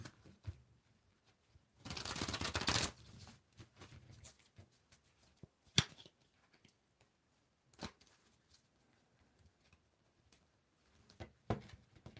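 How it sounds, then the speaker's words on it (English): Tarot cards shuffled by hand, one dense riffle burst of a second or so, followed by scattered soft taps and flicks of cards being handled, quiet and close with no talk. "let's go give it 3 shuffles"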